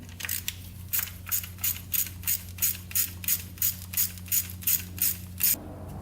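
Steady ratcheting of a socket wrench loosening a rusty nut on a battery terminal of a Honda 500cc-engined tractor, about fourteen evenly spaced, close clicking bursts with a low engine-like hum beneath, ending abruptly.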